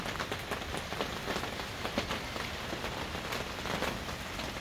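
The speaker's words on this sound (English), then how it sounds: "Is it raining out? It's raining out." Rain falling outside, a soft, continuous patter of drops on a surface with scattered sharper ticks, quiet and even throughout with no talking.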